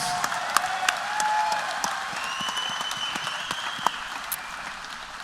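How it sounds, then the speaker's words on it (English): Applause and clapping from an MMA event crowd after a fight, a steady dense roar of hands with occasional louder claps and whistles, held throughout at an even level. "a round of applause for both these athletes"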